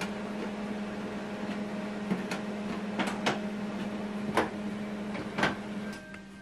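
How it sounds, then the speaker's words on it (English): An HP LaserJet Pro M148dw printer initializing after power on gives a steady mechanical whir with a low hum, broken by several sharp clicks and clacks, before it settles quieter near the end. "So once you turn this on, you need to wait for the line to go through. Okay, initializing."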